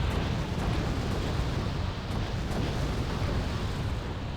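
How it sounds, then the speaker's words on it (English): An artillery barrage in the video game Wargame AirLand Battle rolls as a dense, continuous rumble of distant blasts without a break. "They fire barrages."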